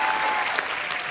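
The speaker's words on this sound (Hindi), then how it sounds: "जोरदार तालियां एक बार" A studio audience at a TV comedy show claps loudly and continuously, a dense burst of applause filling the whole moment.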